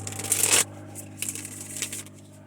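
Tarot cards shuffled by hand: a loud, dense riffle burst in the first half-second, then a few softer papery shuffling rustles close by, with no voices.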